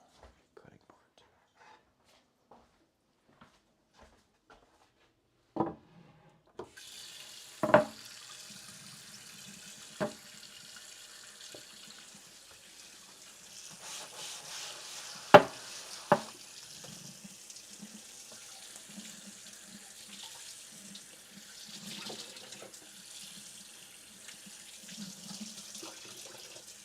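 Running water from a kitchen tap splashes over a cutting board being washed in a sink, a steady soft hiss with a few sharp knocks and clatters, and faint whispering in the background.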